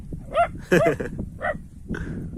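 An Anatolian shepherd dog barks and yips outdoors in a village setting, several close, loud barks in quick succession with short pauses between them.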